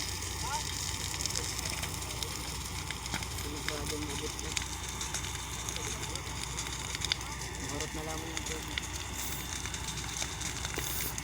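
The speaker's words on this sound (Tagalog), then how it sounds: "Dun sa baba guys, talagang lumaki yung sunog, makikita mo" A forest and grass fire burns in a nature park with a steady crackle and rushing hiss. Faint voices and a few distant bird calls sit in the background.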